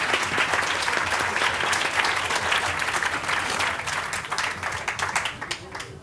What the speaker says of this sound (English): Applause For the volunteer.